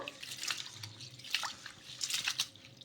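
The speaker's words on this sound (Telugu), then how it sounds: "ఇలా ఇవి కూడా ఒకసారి బాగా వాష్ చేసేసుకుందాము" Soft splashes and drips of water as peanuts are swished and rinsed by hand, several faint sloshing bursts close by.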